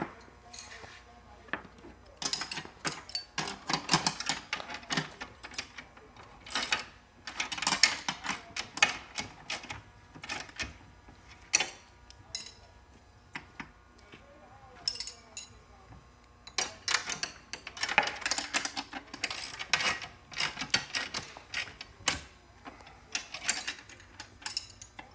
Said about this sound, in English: use the wrenches provided, or you can use a socket wrench